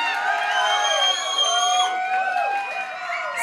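A crowd cheering for a DJ, loud and close, with sustained whoops and high shouted cries blending into a dense roar that fades slightly toward the end.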